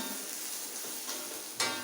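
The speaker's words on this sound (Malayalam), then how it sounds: "അപ്പോൾ സവോള ഗോൾഡൻ ബ്രൗൺ ആണ് വരെ നമ്മളിങ്ങനെ ഇളക്കിക്കൊണ്ടിരിക്കണം." Sliced onions sizzle faintly in a pan as they are stirred toward golden brown, a quiet continuous hiss broken by a brief scrape near the end.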